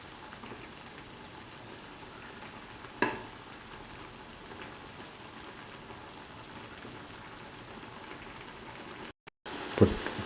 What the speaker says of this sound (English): Gently break the noodles with the spoon.